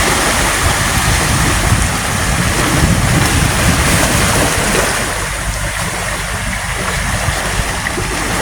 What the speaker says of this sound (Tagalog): Yan po yung dagat, napakalikot ng dagat